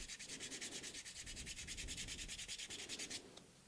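Sandpaper rubs back and forth over filler primer on a 3D-printed part, the gummed-up paper making fast, even, rhythmic strokes, close and steady for about three seconds before stopping.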